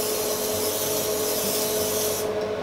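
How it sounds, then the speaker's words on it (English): A steady hiss of aerosol cooking spray onto a 13 by 9 baking pan runs for a couple of seconds, close and even, cutting off near the end. "I have my 13 by 9 pan here, which I'm going to spray with some cooking spray."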